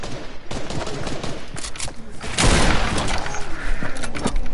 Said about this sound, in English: I'm gonna just shoot your gun.